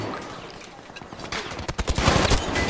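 Machine gun fire in the Battlefield V video game: quiet at first, then dense, loud bursts of rapid gunshots crowd the last second and a half, with no talk over them.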